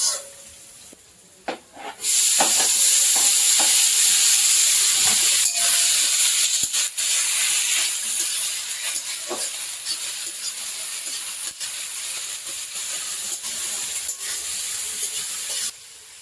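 Onions for eggplant bharta drop into hot oil on a clay stove and erupt into a loud, steady sizzle that holds for the rest of the moment, with faint clicks and stirring beneath the hiss.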